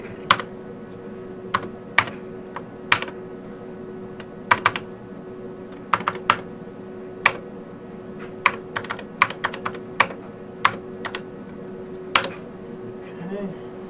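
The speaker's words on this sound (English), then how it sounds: "so I can type in this command" Keys clacking on a Texas Instruments TI-99/4A home computer keyboard, irregular bursts of sharp close taps over a steady electronic hum, with a brief voice in the background.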